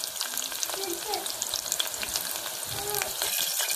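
Curry leaves crackling in hot oil with mustard and cumin seeds for bachali pappu, a close, busy sizzle with dense spitting pops throughout.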